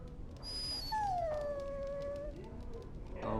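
In the video game Dragon Age: Origins, a dog lets out a long falling whimpering howl over a steady background hum, fairly clear and close, with no speech.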